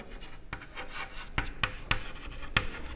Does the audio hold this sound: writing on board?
yes